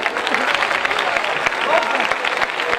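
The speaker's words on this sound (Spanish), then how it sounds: "vamos a dar un aplauso fuerte al cumpleañero" A crowd at a children's festival gala at the La Verdellada fiestas claps loudly for a birthday boy, a dense, steady wash of applause that carries on unbroken throughout.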